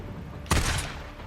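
A burst of gunfire from the video game Days Gone rings out sharply midway, then decays into a fading tail.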